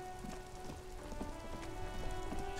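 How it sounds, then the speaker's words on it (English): Steady rain falls across a rain-soaked city street in the video game Disco Elysium, a dense continuous patter with scattered drips, moderately loud and alone without voices. "All around you, rain falls on the great city of Rivershaw. Rain drips from the eaves and floods the gutters"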